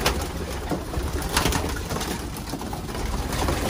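Racing pigeons cooing inside a loft of OLR champion birds at Nakamura Loft, a dense overlapping murmur of coos and soft calls mixed with broadband rustle, close and steady throughout.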